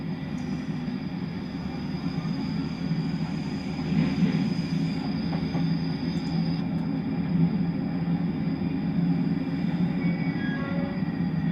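Steady rumble of a London Underground train running in a train video game, a continuous mechanical drone with wheel and motor whine held at even loudness throughout, no voices.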